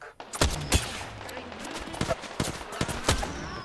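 Enemy squad gunfire in Apex Legends, a rapid scatter of sharp shots and bursts cracking at varying distances across the whole stretch, loud and irregular with no voices over it.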